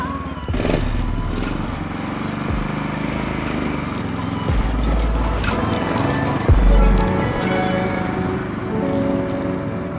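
A go-kart runs on a test track, its small engine a steady, loud drone that surges and dips as it drives, with clattering bumps along the way and brief voices over it.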